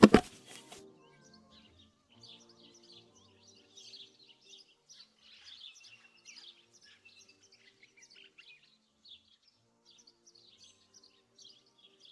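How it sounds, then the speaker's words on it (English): Sparrows chirp in short, scattered bursts in the outdoor countryside of the game Martha Is Dead, light and somewhat distant, following a brief louder clatter at the very start. "I could photograph a sparrow."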